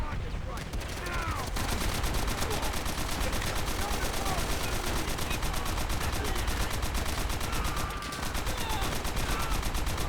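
Sustained machine gun fire in the Call of Duty: World at War video game, dense continuous bursts of rapid shots that are loud and close, running almost the whole time with a brief gap near the start.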